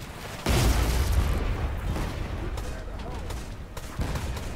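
Gunfire from players aboard ships in the naval combat game Blazing Sails, a dense run of booming shots starting abruptly and continuing steadily, close and loud over a rumbling battle background.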